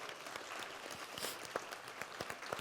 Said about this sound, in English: could we get a round of applause for the MHS Alumni Foundation?